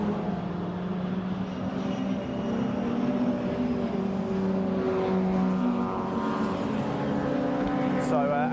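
MG club race cars lapping at Brands Hatch, a steady engine drone with rising and falling pitch as cars pass at a distance, mixed with talk throughout.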